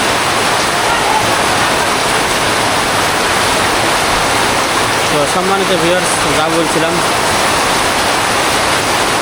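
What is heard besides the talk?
heavy rain on house roof at night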